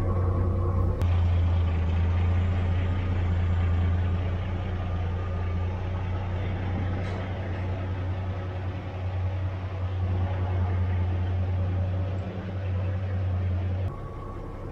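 A 1959 Chevrolet Apache truck's old six-cylinder engine drones steadily for a long stretch, a deep, even low rumble with cabin noise around it and no talking.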